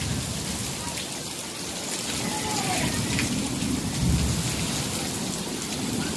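A thunderstorm in Cattolica, Italy, with heavy rain pouring steadily onto surfaces and low rumbles of thunder rolling through, loud and continuous throughout.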